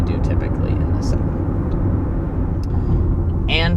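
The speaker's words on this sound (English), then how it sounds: "I do hear a little bit more road noise than I do typically in this segment" Road noise inside a 2022 Chevy Equinox on rough pavement, a constant low rumble and tire roar throughout, with someone talking over it.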